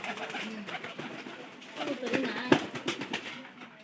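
Pigeons, including a red crossbred bird, cooing close by in a backyard coop, soft repeated throaty coos over someone talking steadily.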